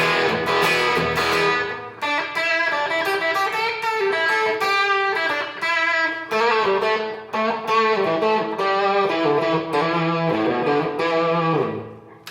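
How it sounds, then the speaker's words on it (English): An electric guitar plays through a Fender Mustang GTX100 Nashville Blues preset, modelling a Fender Vibro King with Tube Screamer, mono tape delay and large hall reverb; bright, lightly driven bluesy lines ring continuously with echoing repeats. "for Nashville Blues, this is using a Fender Vibro King with Tube Screamer, mono tape delay, and large hall reverb again."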